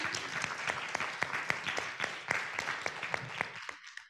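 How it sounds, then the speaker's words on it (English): An audience claps for presenters Jennifer and Callan at a school district grading practices presentation, a dense steady round of applause with sharp individual claps that fades out near the end. "I want to let's give Jennifer and Callan a nice round of applause."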